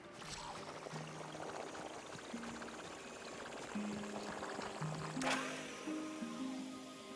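Water splashes and pours in a survival crafting game as a character jumps in and swims, a steady wet churning with brief tonal game chimes and a sharper splash midway.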